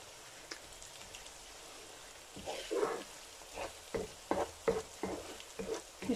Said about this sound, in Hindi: इसको हम 5 मिनट तक अच्छे से भूनेंगे ताकि हमारा कीमा जो अच्छे से पक जाए।